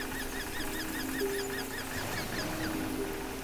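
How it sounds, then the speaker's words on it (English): Seagulls calling in repeated short cries over a steady ocean wash at a beach, the surf a continuous hiss beneath the birds. "there's like an ocean background with some seagulls in the background"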